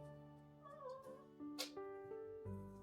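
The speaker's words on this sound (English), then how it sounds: "my cat is crying." A cat cries with a few faint, drawn-out meows in a quiet room, soft and intermittent against a low steady hum.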